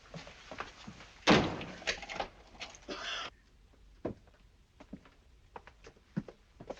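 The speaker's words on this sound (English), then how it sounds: "Lock the door, will you?" A cabin door on a ship is shut with a solid slam, followed by a short rattle and a few faint clicks and knocks as it is secured, then quiet room tone.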